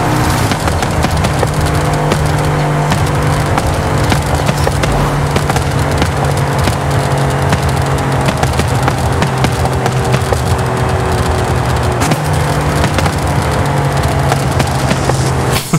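An Audi RS4 in Forza Horizon 5 drives hard, its engine droning loud and close while a steady run of sharp exhaust pops and crackles snaps through the sound without a break.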